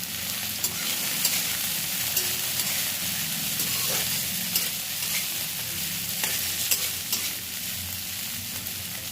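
Fenugreek greens with peas and a little ginger paste fry in a pan, giving a steady, close sizzle with faint stirring scrapes throughout and no talking.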